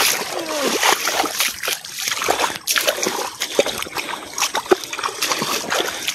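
Water splashing and swirling through a Sundarbans channel, a steady wet churn with brief louder splashes close by, continuing for several seconds.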